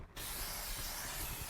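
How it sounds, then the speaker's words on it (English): Aerosol can spraying onto a brake rotor during a Ford Ranger disc brake conversion, a steady close hiss that starts abruptly and runs continuously with no talking. "Spray the rotor off to get any"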